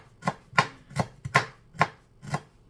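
Seven crisp knife chops strike a cutting board close up, slicing leaves at an even, unhurried rhythm with short silences between.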